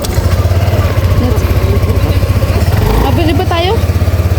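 A motorcycle engine idles nearby with a steady low throbbing chug, while faint voices and brief tonal sounds rise above it toward the end.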